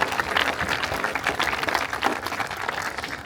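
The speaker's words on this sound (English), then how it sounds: "So give Mr. Nathan Bailey a round of applause." Applause for Nathan Bailey at a high school marching band event, a dense spread of clapping from a modest crowd held at a steady, moderate level for a few seconds.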